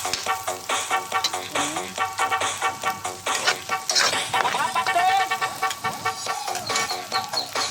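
Garlic, onion and ginger sauté in a pan for chicken adobo, with a loud, steady sizzle and rhythmic stirring scrapes; a faint tonal sound rises briefly in the background.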